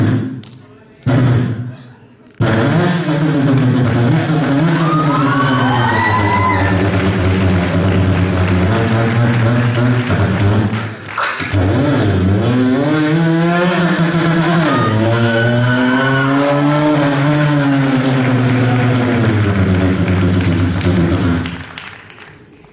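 A man imitates a two-stroke motorcycle, a Yamaha RX-100, with his mouth, producing a loud, buzzing engine drone with revving pitch sweeps and short pauses, close up, lasting about twenty seconds.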